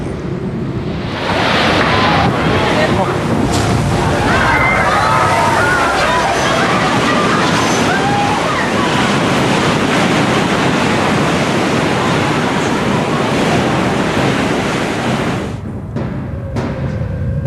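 Heavy crashing tsunami surf roars continuously, a dense wash of churning water and wind noise that stays loud throughout before briefly easing near the end.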